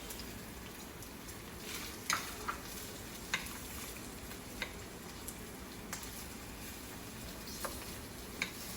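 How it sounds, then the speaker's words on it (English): Steady sizzling from green beans in a pan, with occasional small pops and ticks scattered throughout, fairly quiet and close. "now that my green beans are starting to sizzle"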